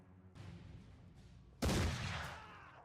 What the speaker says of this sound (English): And shoot again.